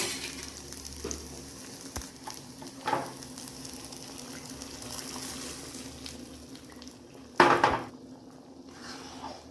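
Fried green turkey berries tipped into a sizzling pot of kuzhambu: a steady soft sizzle with faint clinks, then one sharp splashing clatter as they drop in, followed by a quieter simmer.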